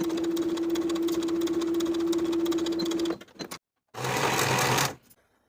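A sewing machine stitching shoulder seams on a bodice, running in a steady fast whir with a humming tone, then pausing briefly before a second short burst of stitching; nobody speaks.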